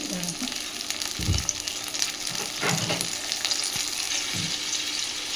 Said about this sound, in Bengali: এবার মা দিয়ে দিচ্ছে জল, মশলা বাটার জলটাই এখানে ব্যবহার করেছে।